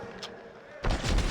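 AK rifles firing in Counter-Strike on the Dust2 map, a sudden burst of loud, rapid gunfire kicking in near the end after a quieter stretch with a faint background voice.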